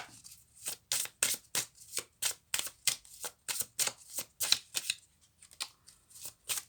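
Oracle cards are shuffled for a reading in a series of quick, papery riffles and slaps, close and fairly quiet, arriving in irregular bursts with no talking over them.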